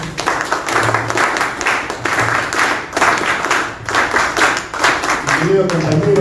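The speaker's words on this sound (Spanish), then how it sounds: "Un fuerte aplauso para él." Audience applause at a Spanish-language public event on urgent measures for small businesses, steady clapping throughout with voices and talk mixed in, fairly loud and close.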